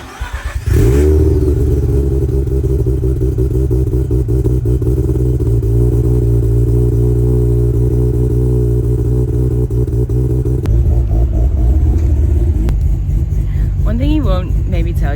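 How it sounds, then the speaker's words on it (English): A freshly rebuilt bridgeported Mazda RX-8 rotary engine cranks and fires at about one second, then holds a loud, lumpy, uneven idle with steady clattering pulses through the rest of the stretch, dipping slightly near the end. "time for a cold start."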